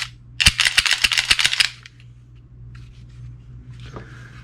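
A Taurus G2C pistol being dry-fired gives a rapid run of about seven sharp, close trigger clicks with a cap-gun snap, followed by quiet handling noise and a faint rattle.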